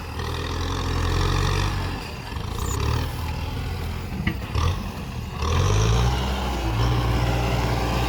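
A tractor engine runs and labours while levelling soil at a Thai building site, a loud close diesel rumble that dips and surges as the machine pushes and reverses, with no talk.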